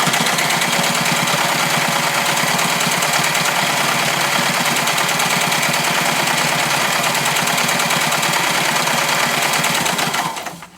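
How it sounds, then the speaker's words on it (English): A sewing machine stitching zigzags between squares on slipcover fabric, a loud, fast, steady mechanical whir running continuously for about ten seconds before abruptly winding down. "I'm going to sew zigzags in between the square"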